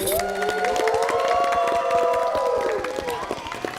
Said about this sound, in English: I want to give a big round of applause for her once again